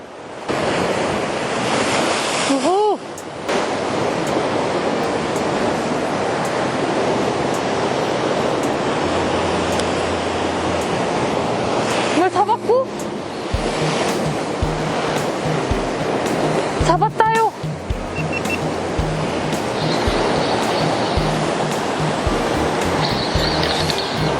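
Sea waves surge steadily against rocky shore where a float fisherman stands, a continuous loud roar of surf with rushing wash and wind buffeting the microphone, and no speech.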